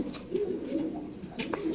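A fancy pigeon at a pigeon sale coos close by in soft, repeated throaty rolls, with steady background murmur and no clear talk.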